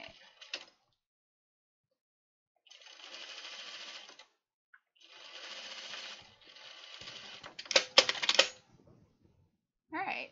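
A home sewing machine stitches a French seam on a dress, in several short bursts of rapid mechanical whirring separated by pauses, with a few clicks and handling rattles between runs, close and fairly quiet.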